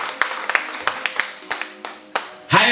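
A church congregation claps hands in a quick run of sharp, separate claps that ends with a short, louder burst of clapping mixed with voices.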